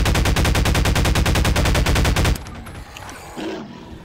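Heavy automatic gunfire from big guns in Half-Life 2 rattles in a rapid, loud, steady burst for about two seconds, then cuts off into quieter game ambience and scattered noises.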